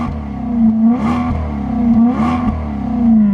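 A Maserati GranTurismo MC engine and exhaust in regular mode, loud and close, revving in smooth rising and falling surges with a steady low drone between them and no voices.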